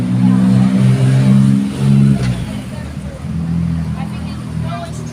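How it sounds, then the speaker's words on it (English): A loud motorbike passes on a street, its engine droning and revving close by, then fading as it moves away, with people talking over it. "I really don't like noisy motorbikes."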